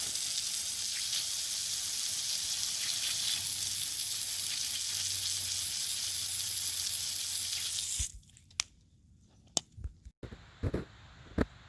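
Water sizzles loudly in a steady hiss as it hits a hot Jeep XJ exhaust manifold, then cuts off abruptly, leaving a few faint knocks and taps.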